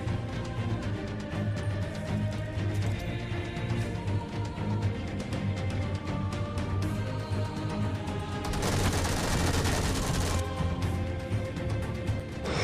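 Gunfire in the mobile battle royale game PUBG Mobile during a solo-versus-squad match: rapid bursts of automatic weapon fire and explosions layered over steady game ambience and music.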